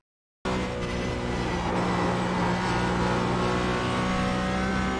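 A GT4 race car in iRacing at Barber Motorsports Park drones steadily at high revs from start to end, a loud sustained engine tone that holds while the driver eases slightly off the throttle into a corner.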